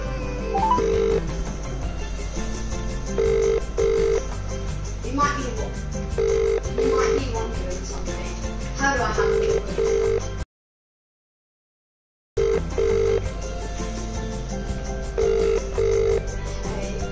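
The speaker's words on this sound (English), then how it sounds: "Now I need to phone Anesch up." Repeated paired telephone ringing bursts in an even rhythm, sounding at intervals over game audio and talk during a Fortnite battle royale live stream, with a brief silent gap partway through.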